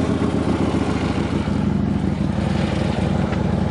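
A 2014 Harley-Davidson FLHXS Street Glide Special idles steadily close by, a deep, even engine rumble running unbroken for a few seconds with no voices over it.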